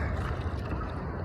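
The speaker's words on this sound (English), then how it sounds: "Let me paddle a little bit." Paddle strokes of a canoe moving near the shoreline, a steady low watery swish with some wind noise on the microphone, close and moderately loud, with no voices.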